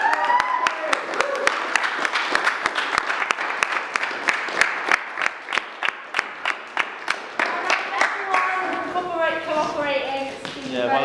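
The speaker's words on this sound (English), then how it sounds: "can we give them a round of applause?" A film crew on set applauds the actors with a run of sharp, rhythmic group claps that fade out near the end as people begin talking.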